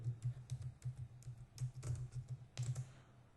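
Quiet, close keystrokes tapping a string into a computer keyboard, in short irregular bursts of several clicks with brief pauses between them.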